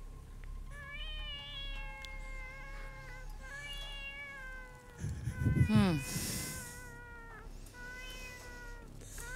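A cat meows over and over in drawn-out, wavering cries, with a louder, rougher burst in the middle, heard close up over a soft background hum.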